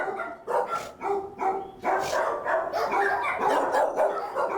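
A shelter dog, apparently abandoned, barks repeatedly in short, loud, close bursts with brief gaps, alone with no talking.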